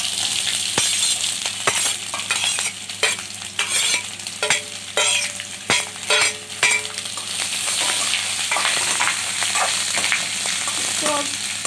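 Chopped onions frying in oil with bay leaves, a continuous bright sizzle broken by repeated sharp clinks and scrapes of a utensil stirring the pan, close and fairly loud.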